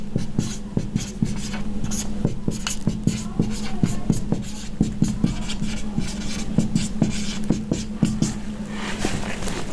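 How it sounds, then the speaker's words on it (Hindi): Someone writes on a board in a steady run of short, scratchy strokes and taps, close and distinct, for about ten seconds. "लिख दे रहा हूं मैं।"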